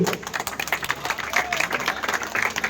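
Crowd clapping at a village gathering to honour B. R. Jagjivan Ram's 117th birth anniversary, where a former MLA hands aid to a bereaved family, a brisk uneven patter of many hands with voices mixed in.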